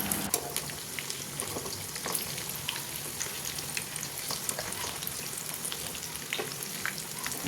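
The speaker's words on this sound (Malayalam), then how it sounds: "ചൂടായിട്ടുള്ള എണ്ണയിലേക്ക് നമുക്കിത് ഓരോന്നായിട്ട് ഇട്ടെടുത്തിട്ട് ഫ്രൈ ചെയ്തെടുക്കാം" Brinjal slices frying in hot oil over a medium flame, a steady close sizzle with constant crackling and popping throughout, no voices.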